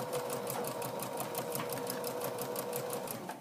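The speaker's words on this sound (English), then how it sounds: "all you have to do is sew the tops of your pockets" A sewing machine stitches across the tops of apron pockets in a fast, even, motorized whir of rapid needle clicks. It runs continuously up close and fills the whole stretch.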